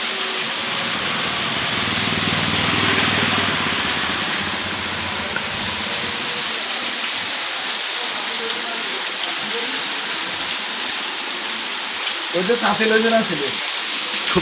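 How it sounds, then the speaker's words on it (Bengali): Heavy rain pours steadily in Parshuram, Feni, a dense continuous wash of water noise with low rumbling swells early on and a brief clatter near the end, no clear talk over it. "পল্লীকে না করছি আপনি যাইন না এখন বৃষ্টি অনেক বেশি"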